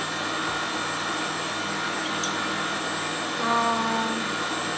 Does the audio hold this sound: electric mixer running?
yes